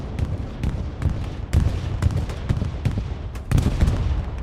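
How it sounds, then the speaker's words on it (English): Bombing run in Hell Let Loose on a night map, a string of heavy explosions thudding at a steady pace, loud and booming with rumbling echoes between blasts. "Looks like it's going to be a MERC bombing run."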